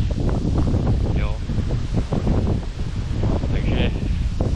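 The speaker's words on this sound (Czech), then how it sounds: "Je vítr jako kráva." Strong winter wind by open water buffets the microphone in a loud, continuous roar with gusty rumble, while a person speaks over it.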